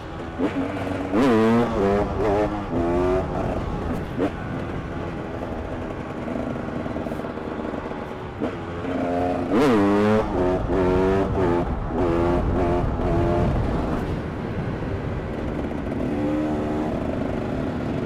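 A KTM 300 EXC two-stroke set up as a road-legal supermoto revs and rides on tarmac, its engine rising and falling in pitch through repeated accelerations, loud and close, with a person talking over it.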